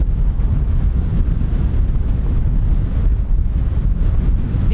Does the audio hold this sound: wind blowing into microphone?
yes